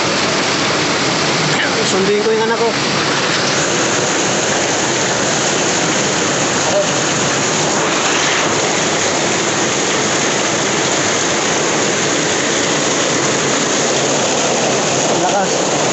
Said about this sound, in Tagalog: na naman ang ulan.